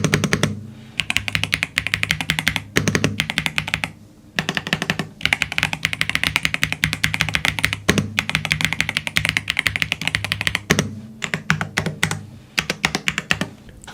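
Fast, continuous typing on a Yunzii B75 Pro Max mechanical keyboard, dense clacky keystrokes with brief pauses, loud and close with no voices.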